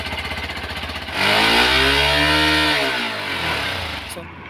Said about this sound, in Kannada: ಈ ಎಕ್ಸಾಸ್ಟ್ ಸೌಂಡ್ ಒಂದ್ಸರಿ ನಿಮಗೆ ಗಾಡಿ ಆನ್ ಮಾಡಿ ತೋರಿಸ್ತೀನಿ ಯಾವ ಥರ ಇದೆ ಎಕ್ಸಾಸ್ಟ್ ಸೌಂಡ್ ಅಂತ